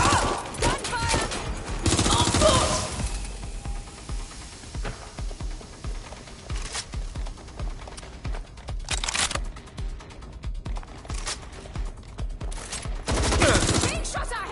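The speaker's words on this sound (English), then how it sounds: "Gunfire!" Rapid bursts of gunfire crackle in volleys, some louder and closer, over a chaotic, noisy background in a video game.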